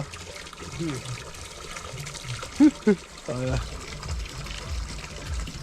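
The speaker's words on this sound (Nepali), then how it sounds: "गजबले एक बाल्टी पानी थाप्यो" Water pours steadily into a large bucket, a continuous rushing trickle, with someone speaking nearby and a couple of brief louder knocks.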